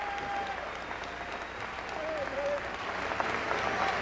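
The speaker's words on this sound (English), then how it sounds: "Would you receive him with a warm round of applause?" Audience applause welcoming a minister to the stage at a Nation of Islam rally against violence, a steady wash of clapping and crowd noise at moderate distance, with faint voices underneath.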